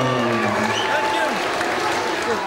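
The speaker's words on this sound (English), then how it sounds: "Will you please continue your applause for a gallant opponent from Morecambe MMA, Kieran?" Crowd applause and cheering at a CSFC MMA bantamweight title fight after a TKO win, dense and continuous, heard under a ring announcer's amplified voice.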